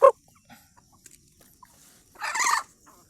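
Native chickens on a farm feeding on rice bran, giving a short cluck at the start and a louder cackling burst later, with quiet gaps between.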